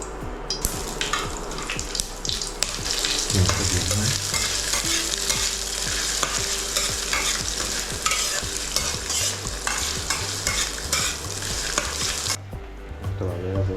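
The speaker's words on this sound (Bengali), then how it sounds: "এবার কড়া গরম হচ্ছে, তেল দিয়ে রান্না এবারে শুরু করবো।" Chopped onion, green chilli and tomato fry in hot oil in a kadai wok, with a dense, continuous sizzle and rhythmic stirring scrapes close by throughout, and no talking.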